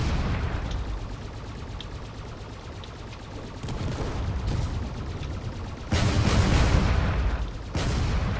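Cannons firing at a fortress during a video game battle, heard as a steady rumble of shots with louder bursts near the end, dense and continuous rather than distinct single booms.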